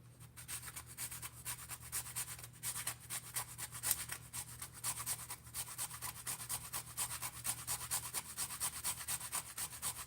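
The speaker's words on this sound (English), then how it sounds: "we have our little grater here, and we got a piece of nutmeg" A small grater rasps a piece of nutmeg in a home kitchen while cornmeal porridge is made, giving a steady run of quick, close scraping strokes with no talk.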